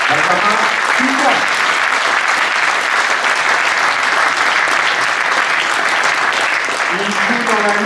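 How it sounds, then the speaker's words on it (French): A crowd at a competition final bursts into loud, sustained applause that stays thick and even throughout, with a voice briefly audible at the start and again at the end. "Merci de vos applaudissements pour le Benjamin de la finale"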